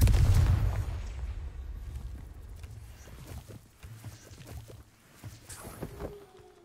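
Confringo and Glacius spells are cast in the video game Hogwarts Legacy, starting with a loud booming blast that fades out. Softer magical bursts, pops and whooshes follow at uneven intervals.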